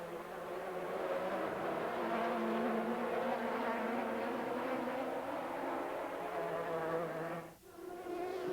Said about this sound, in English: In the lead, Manu Collard is driving another stint in the Pescarolo Judd